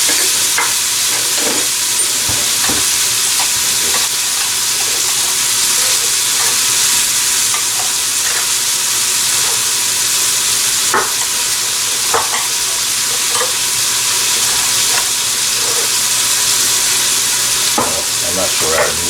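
Split peas simmering and being stirred in a pot, with a steady close sizzle and bubbling hiss plus intermittent spoon scrapes and clinks throughout, no voices.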